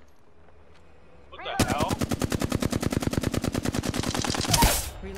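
Rapid automatic gunfire in a video game shooter, a long steady burst of close, loud shots lasting several seconds after a quiet start, with a player's brief exclamation over it.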